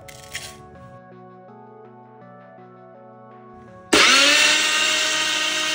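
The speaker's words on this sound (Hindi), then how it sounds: "फिर हम इस सबको मिक्सी में अच्छे से ग्राइंड करेंगे" A mixer grinder grinding spices starts suddenly with a loud, steady whirring roar after a few seconds of quiet soft music, running on without a break.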